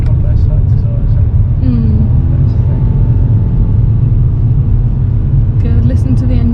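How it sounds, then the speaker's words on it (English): A car engine rumbles steadily at close range inside the vehicle, with people talking over the low hum. "listen to the engine"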